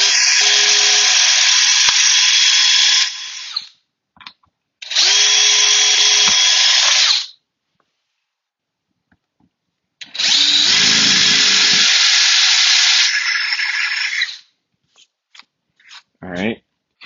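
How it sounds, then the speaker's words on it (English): Power drill driving metal screws into pre-drilled wood, three long loud whirring bursts of about three to four seconds each, separated by pauses, with a few faint clicks and brief noise toward the end. "let's drill this"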